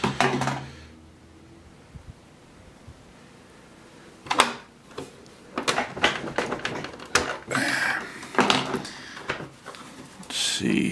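Sharp clicks and clatters as screws are worked out of the case of an old Coleco console, coming in irregular close bursts after a quiet stretch.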